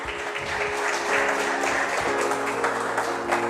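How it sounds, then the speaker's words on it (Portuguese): Congregation applauding in a church during a sermon, a steady wash of many hands clapping over organ or keyboard tones. "Aplaude ao Senhor em nome de Jesus."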